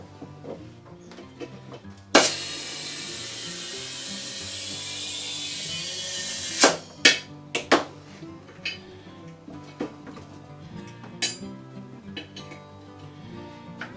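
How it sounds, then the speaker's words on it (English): Air hissing into an inner tube on an MTD mower tire, one loud steady broadband rush lasting about four seconds, followed by scattered clicks and clanks of tools and the valve stem. "Now I'll put some air in it."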